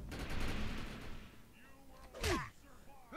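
Shotgun blasts in the video game Defiance: a broad burst of noise early on, then a second sharp, loud shot, with a brief echoing tail after each.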